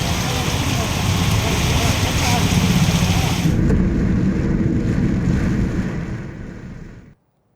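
Heavy monsoon rain pours down loudly and continuously in a dense roar that suddenly thins and then fades out, with no distinct thunder claps.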